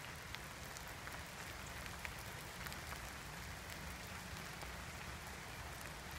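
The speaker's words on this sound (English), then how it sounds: "So thank the gods and the goddesses for rain, because we've needed it." Steady rain falls in a woodland, a dense soft patter of drops on leaves and ground that continues evenly and faintly throughout with no voices.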